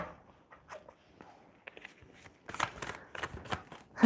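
Tarot cards shuffled by hand during a live reading, a run of soft crisp riffles and taps that grows busier and louder toward the end, with no talking.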